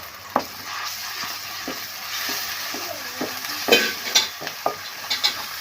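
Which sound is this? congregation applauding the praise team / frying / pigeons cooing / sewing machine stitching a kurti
frying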